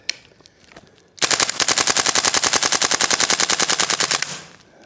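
A WellPro AK12 gas blowback airsoft rifle fires a single long, loud, rapid burst of about three seconds, each shot cleanly separated, preceded by a few quiet clicks and handling noises.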